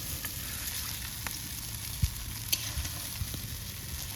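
Cooked rice is tipped into fried vegetables in a pan and stir-fried for fried rice, giving a steady sizzle with a few sharp spatula scrapes and knocks, close and unaccompanied by talk.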